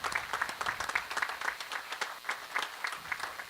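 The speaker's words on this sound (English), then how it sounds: "I'd like them in particular to receive a round of applause" Applause from the audience at a prep school graduation ceremony, a steady wash of many hands clapping at once that holds at an even level throughout.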